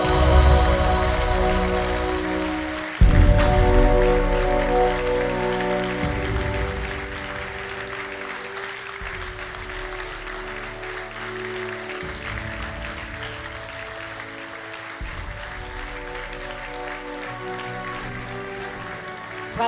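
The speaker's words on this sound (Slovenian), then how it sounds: "In velik aplavz za nagrajence" Large audience applauding award recipients at a civil defence day ceremony, steady dense clapping sustained throughout, with a music-like tonal bed running underneath.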